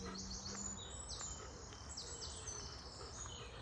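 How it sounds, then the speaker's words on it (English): A wren sings in woodland, a rapid run of high, thin trills and chirps repeating several times, faint and distant against a steady low background hum. "That's a wren."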